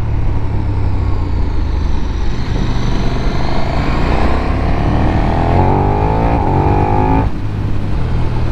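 A KTM Super Duke motorcycle engine roars loudly and continuously while trail braking through corners on a stretch of road, its pitch sweeping up and down with throttle changes before cutting off sharply near the end, with heavy wind noise throughout.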